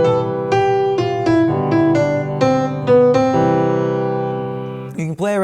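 Piano played with both hands together in mixed note lengths, a melody moving over sustained lower notes in an uneven rhythm, close and clear with no talking.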